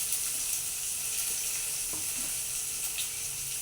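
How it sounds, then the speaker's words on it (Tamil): Onion drops into hot oil with mustard seeds for tomato thokku, a loud, close, unbroken hissing sizzle with faint stirring taps and no speech. "இப்போ வெங்காயத்தை போட போகிறோம்"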